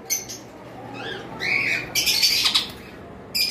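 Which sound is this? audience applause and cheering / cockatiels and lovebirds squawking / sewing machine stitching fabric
cockatiels and lovebirds squawking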